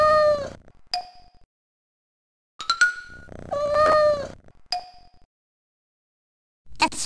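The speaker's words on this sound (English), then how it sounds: "Press a key for the cat to make a cat sound" Cartoon cat meows from a Sesame Street key-press game: several clear, separate meows with quiet gaps between them, each followed by a short electronic ding, plus one brief meow at the end.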